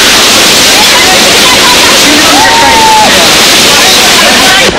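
A flooded, swollen river in Turkey rushes loudly and continuously, a dense, close roar of churning water that covers everything else.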